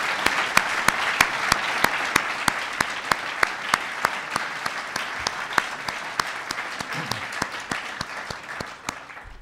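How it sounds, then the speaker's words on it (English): An audience applauds high school robotics students at President Obama's Educate to Innovate event, a sustained, even burst of many hands clapping with sharp individual claps standing out, continuing steadily before easing off slightly near the end. "Give them a big round of applause."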